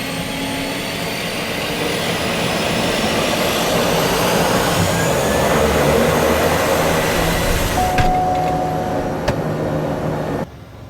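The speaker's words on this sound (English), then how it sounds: "it wasn't long before the engine fired up and we were on our way" A steady, loud small propeller-plane engine drones continuously while taxiing along New York City's East River, with a brief higher whine near the end before the level drops slightly.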